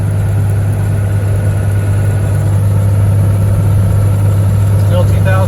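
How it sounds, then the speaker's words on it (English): Truck engine under heavy load in 5th gear, pulling hay equipment uphill at about 2,000 RPM, a loud steady low drone with constant whir from start to finish and no talk over it. "Still in 5th gear, and I'll stay into it until I get over the hill and start going downhill just a little bit."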